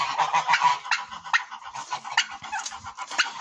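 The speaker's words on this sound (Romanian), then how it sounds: "Am zis să le filmez pe gâște puțin dimineața să vedeți comportamentul gâscanului" Romanian autosexing geese honk in the morning in a farmyard, a busy overlapping chorus of calls with fowl clucking mixed in, fairly close.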